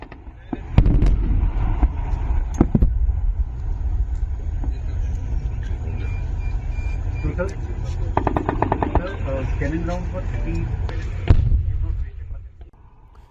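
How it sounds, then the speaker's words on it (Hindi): Heavy booming artillery and shell blasts and bursts of rapid fire roll on continuously during a military drill, loud and close, with several sharp cracks standing out and faint voices underneath. "इसमें आपको तोप दिख रही है, ड्रोन्स कैसे फोड़े जा रहे हैं, कैसे गोले दागे जा रहे हैं"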